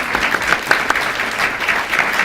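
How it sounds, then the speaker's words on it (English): Audience applause closes a debate on evolution and God, with steady dense clapping from a crowd lasting the whole moment and no talk over it. "they both deserve another round of applause"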